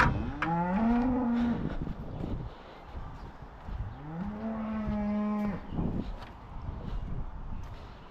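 Two calves on a farm give two long, loud moos close by, separated by a few seconds of quieter rustling and movement.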